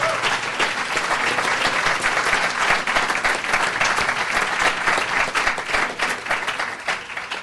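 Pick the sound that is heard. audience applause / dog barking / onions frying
audience applause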